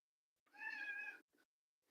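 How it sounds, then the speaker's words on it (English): A house cat gives one clear, drawn-out meow close by, then a brief softer chirp, set against near silence. "What do you want, cat? You want the pet, don't you?"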